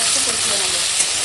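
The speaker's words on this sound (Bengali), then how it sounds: "এখন একটু কষিয়ে নেবো।" Potato, green chilli and tomato sautéing in a pan with ginger-garlic paste, giving a brief, close, continuous sizzle and hiss with no other sound over it.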